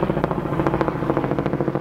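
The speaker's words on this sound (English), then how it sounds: "that's a helicopter flying overhead there." A steady rhythmic thudding of helicopter rotors from a helicopter flying overhead, fairly loud and continuous throughout.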